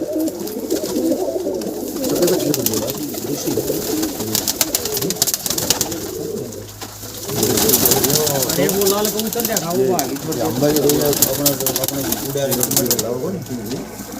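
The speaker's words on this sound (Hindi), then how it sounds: "कबूतर है या कबूतरी?" Soft pigeon cooing repeats in low, rolling phrases amid a busy background, with people talking nearby throughout.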